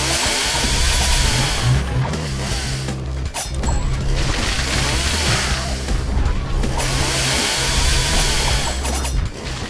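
A chainsaw weapon revving in the game The Dishwasher: Vampire Smile, a loud continuous buzzing grind that surges and dips in waves, overlapping clanking combat mechanisms throughout.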